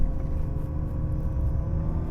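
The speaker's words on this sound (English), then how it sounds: "let's go around here and give it some gas" Ferrari 575M Maranello V12 accelerating from inside the cabin, a deep steady engine rumble with a low drone and faint rising tones, continuous and moderately loud.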